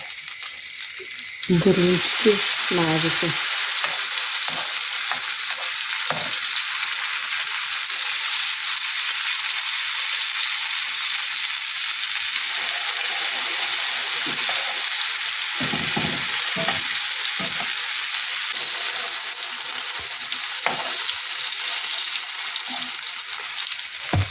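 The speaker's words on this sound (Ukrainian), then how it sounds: "Бачу, що вже одні смажилися з цієї сторони." Steady oil sizzle of potato pancakes frying runs throughout, loud and continuous, with occasional scraping and clinking of a utensil against the pan.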